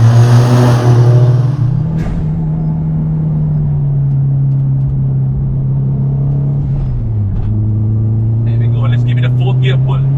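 A turbocharged Subaru WRX STI engine holds a steady growling tone in fourth gear on a track, dips briefly, then keeps pulling under load, with a voice speaking over it near the end.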